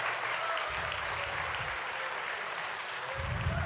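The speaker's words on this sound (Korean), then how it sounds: "아 정말 박수 한번 다시 한번." A congregation at a Korean Baptist Sunday worship service applauds in a steady, moderately distant wash of clapping that runs evenly for nearly four seconds, with faint low voices murmuring underneath.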